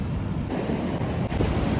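Forceful sea waves at a hotel beach in Sri Lanka at sunset, a steady loud roar of surf with wind buffeting the microphone, continuous and close with no talk.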